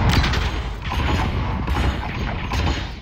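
Gunfire in the VR shooter Space Junkies, a loud continuous stream of rapid shots with a mechanical, clattering edge, close and unbroken for a few seconds without speech.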